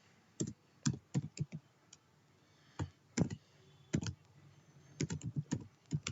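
Keys on a computer keyboard click in short irregular clusters as code is typed, crisp close taps separated by brief pauses, with no voices.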